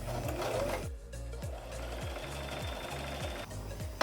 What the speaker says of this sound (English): So now I'm gonna just sew both ends, or both sides, to make like a tunnel